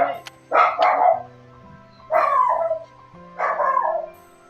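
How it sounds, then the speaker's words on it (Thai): A Shih Tzu barks indoors at a home, three separate bursts of short, sharp yaps spaced a second or so apart, close and fairly loud against a quiet room. "ตัวนี้เป็นพันชิสูนะครับที่ กำลังเห่าอยู่"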